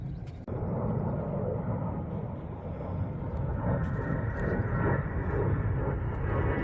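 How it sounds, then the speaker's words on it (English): A-10 Warthog military jets fly over a river boardwalk, producing a loud, sustained broadband roar that holds steady and slowly builds across the whole stretch, with no talking. "A10 Warthogs."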